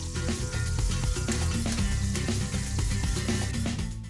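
Chicharon crackles and sizzles in hot oil during its first frying, a dense, continuous bubbling sizzle with scattered pops, close and steady throughout.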